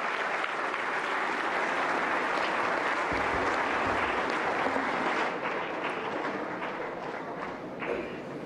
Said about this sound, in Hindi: जोरदार तालियों से स्वागत करें माननीय राष्ट्रपति महोदया का।